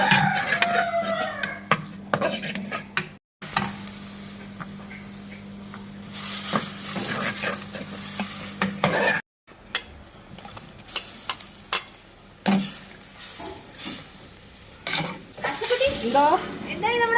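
Murrel fish curry cooks in a clay pot with a continuous sizzle and repeated scraping stirs. Two brief silent gaps break the sound, and faint talk is mixed in at times.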